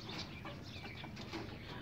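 Free-range desi chickens clucking softly after being let out, faint and continuous over steady outdoor background noise.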